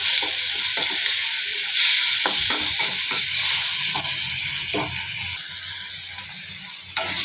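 Boiled eggs sizzle and fry in tomato paste in a steel pan over medium heat for a village-style egg curry, a steady crackling hiss with occasional sharper pops throughout.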